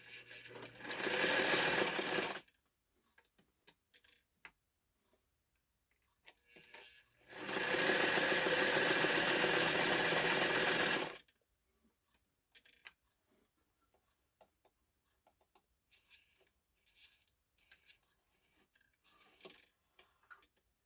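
A Singer 237 Fashionmate sewing machine whirs steadily for a couple of seconds, goes quiet apart from a few small clicks, then starts running again with a faint rhythmic wobble.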